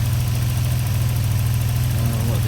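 A 3-litre 24-valve car engine, rebuilt after spinning a big end bearing, idles steadily up close with a continuous low, throbbing rumble and no let-up through the clip.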